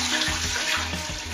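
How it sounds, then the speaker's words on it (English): Water poured into a pot for steaming fishing boilies, a steady close rushing splash that continues without a break. "Put a little bit of water"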